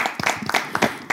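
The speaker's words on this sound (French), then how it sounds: "Applaudissez déjà." Scattered applause from a small studio audience on a French-language talk show, a handful of uneven claps overlapping in a quick, ragged burst, fairly close.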